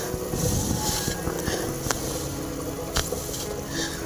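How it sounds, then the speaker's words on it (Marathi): Water at a rolling boil in a pot, heated for dal khichdi before rice and masoor dal go in; a steady, dense bubbling hiss with a few louder pops, close by and with no voices. "तर आपल्या पाण्याला छानपैकी उकळी आलेली आहे."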